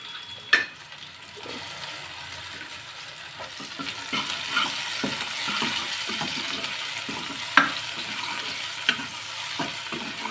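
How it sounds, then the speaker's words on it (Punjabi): Onions frying and being stirred in a pan while mung-masoor dal is made, a steady close sizzle with scattered clinks and scrapes of the spoon against the pan, no voices. "ਜ਼ਿਆਦਾ ਕਾਲੇ ਜਿਹੇ ਨਹੀਂ ਕਰਦੇ ਪਿਆਜ਼ ਬਸ ਬਰਾਊਨ ਜੀ ਕਰਾਂਗੇ"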